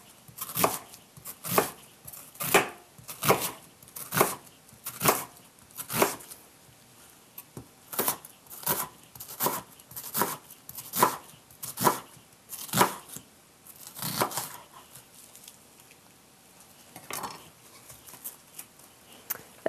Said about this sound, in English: We're only going to use half of our onion peeled, so we just slice this into thin strips by cutting along the lines.